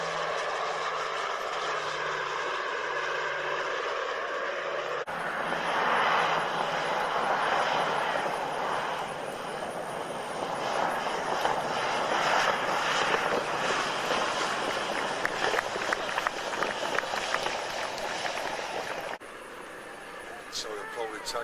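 Short Sunderland flying boat taxiing on water in Microsoft Flight Simulator, a continuous droning piston-engine hum that holds steady throughout, with voices talking over it.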